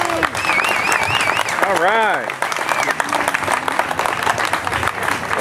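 A crowd at a Florida clean water rally applauds to welcome a representative, a continuous wash of clapping running under a voice that speaks over it.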